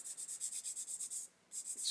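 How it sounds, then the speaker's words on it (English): Rhythmic back-and-forth sanding of a plastic part from a 1/72 Airfix Lancaster B.III Dambuster model kit, about a dozen quick close strokes, a short pause, then more strokes, quiet and alone. "we're just going to sand that flat"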